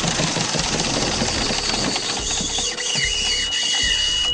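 A Volvo MD7 marine diesel engine runs with a loud, busy mechanical clatter and rattle, close up and steady, as the stop knob is pulled to shut it down; no one speaks over it.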